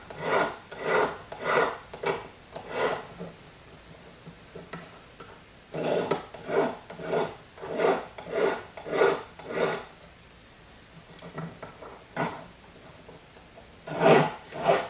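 Hand file rasping along the edges of a metal Chinese dadao sword pendant at a jeweler's bench, steady back-and-forth strokes in bursts with short pauses, close and moderately loud.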